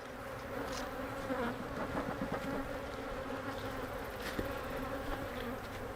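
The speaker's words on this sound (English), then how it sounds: "Got a big blob of bees over here we need to get back in there." Honey bees swarming around an open beehive during a fall inspection, a dense, steady buzzing close to the microphone with individual bees flitting past, and no voices.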